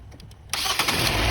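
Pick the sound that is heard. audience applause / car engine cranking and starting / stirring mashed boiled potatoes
car engine cranking and starting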